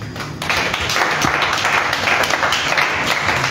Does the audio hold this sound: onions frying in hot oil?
no